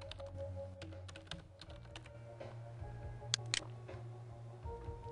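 A name being typed on a computer keyboard while setting up a Flash button, an irregular run of close, light key clicks over a low steady hum, with a couple of sharper taps near the end.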